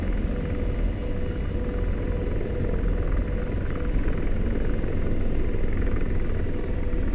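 Steady, loud rotor and turbine drone from an AH-64D Apache attack helicopter in a flight sim, a dense unbroken rumble with constant thump that holds level throughout with no voices.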